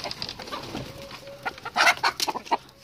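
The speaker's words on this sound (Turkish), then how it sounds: "O horoz tavuklarımızı, daha doğrusu arkadaşlar, ferikleri çok rahatsız ediyor" Hens and a rooster in a coop cluck and squawk in quick, irregular bursts, close by and loud, with the calls bunching up toward the end.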